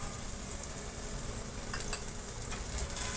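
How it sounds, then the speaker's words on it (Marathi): Kashmiri chili powder and cumin sizzle steadily in hot oil in a pan, with soft stirring scrapes under a continuous close frying hiss and no talking. "व्यवस्थित आपण तेल सुटेपर्यंत ही परतून घेणार आहे।"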